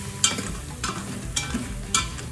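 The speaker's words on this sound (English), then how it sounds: "I'm gonna switch over to my little whisker here, my little whiskeroo" A small wire whisk stirs flour into beef stroganoff inside an Instant Pot, giving quick rhythmic scraping strokes that repeat about every half second, close up, with a soft sizzle beneath.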